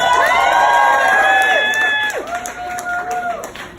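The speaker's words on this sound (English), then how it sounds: "Everyone give Wendy a huge round of" Crowd cheering and applause at a bat mitzvah celebration, loud and lively with shouts and whoops and some children's voices, tapering off after about two seconds.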